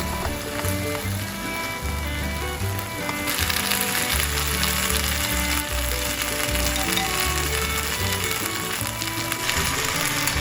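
Carrots, potatoes and green peppers stir-fry in hot oil in a pan, a loud continuous sizzle that swells partway through, punctuated by scraping and clattering of a utensil against the pan.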